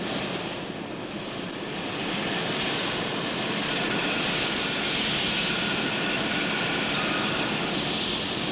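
Trucks from a 1960s New Zealand road haulage fleet drive along the open road, a steady broadband engine and tyre roar with wind rush, continuous and fairly close, with no speech.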